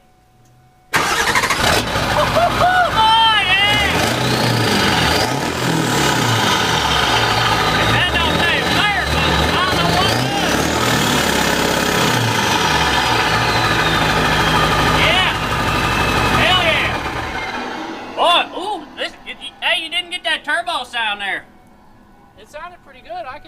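A Ford Super Duty pickup fitted with a 4-inch straight pipe cranks and fires up, then roars at a loud, steady idle for about sixteen seconds before shutting off. Excited voices cheer and talk over the engine and continue afterward.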